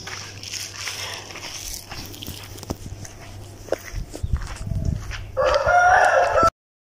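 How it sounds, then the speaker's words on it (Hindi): An Aseel rooster crows loudly and close by near the end, a bright harsh call rising above a background of footsteps, scattered knocks and outdoor noise. "असील मुर्गा है ये।"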